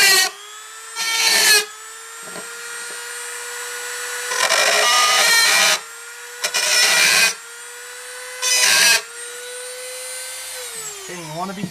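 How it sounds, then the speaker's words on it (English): A small power drill with a gold 1/8 bit bores into a 1:64 diecast car, a steady high motor whine broken by five loud grinding bursts as the bit bites metal, then winding down. "So I'm going to go ahead and cut this, or drill it."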